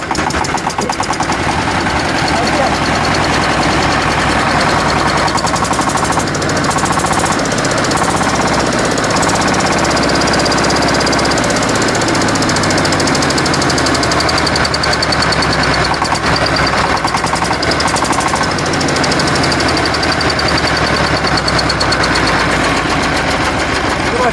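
A mini tractor engine, hand-cranked to start, runs loudly and continuously up close, with a rapid knocking, hammering rhythm and clattering mechanical noise throughout.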